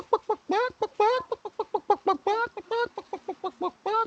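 A person voices an imitation of a chicken, making a rapid, rhythmic run of clucks and rising squawks that stay close and loud throughout.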